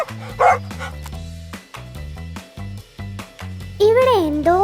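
A dog barks repeatedly in sharp, loud bursts while children talk and shout over it, one rising yelp-like cry at the end.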